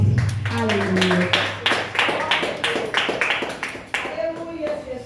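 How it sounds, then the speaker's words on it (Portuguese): A church congregation claps to welcome the pastor, with rhythmic, evenly spaced claps under a voice speaking and a sustained musical tone. "Recebe nosso pastor com palmas"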